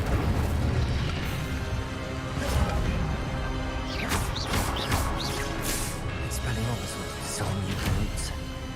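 Repeated fiery bursts and booms from Incendio fire spells in the Hogwarts Legacy video game, a continuous chaotic battle layered with crackles and impacts under frequent shouted speech.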